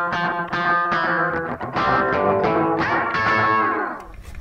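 Electric guitar played through a copied distortion, amp and reverb effects chain rings out in a series of heavily distorted, sustained chords and notes, loud and alone, with a reverberant tail fading at the end.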